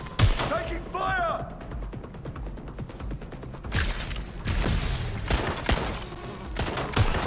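Gunfire in the video game Watch Dogs: Legion, bursts of rapid shots and mechanical clicks interspersed with impacts, loud and close, with brief ringing tones between volleys.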